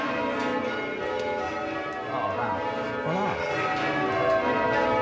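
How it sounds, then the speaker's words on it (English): A full ring of twelve church bells peals from an old tower, ringing since 1499, with overlapping resonant strikes sounding moderately loud under a faint bed of indistinct voices. "The full ring of 12 bells is being rung by Peter Holden and his team."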